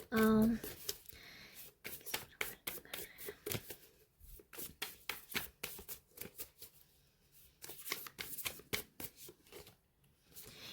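Tarot cards are shuffled and drawn from the deck during a reading. Close, crisp bursts of riffling and slapping card sounds come in quick uneven runs with short pauses, and a brief voice is heard at the start.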